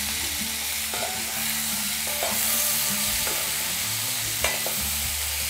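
Large tomatoes added to softened onions, stirred and sizzling in a pan for a Tamil fish dish, a steady frying hiss broken by several scraping stirs of a spoon against the pan.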